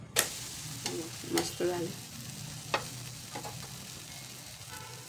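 A green chickpea dosa sizzles softly on a pan over a low flame, with a steady faint hiss broken by a few scraping clicks as it is handled, and a brief spoken remark partway through.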